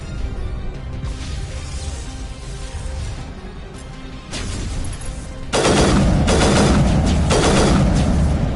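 Sniper rifle fire in the Mass Effect game, a dense run of loud, sharp shots that builds up sharply partway through and stays heavy to the end, with no voices.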